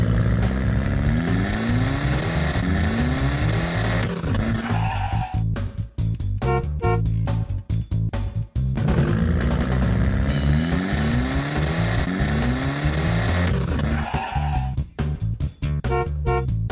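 Cartoon car revving and driving off, a loud, busy stretch of rising engine whines with sharp tire and sound-effect bursts, repeating in two similar waves with music-like tones underneath.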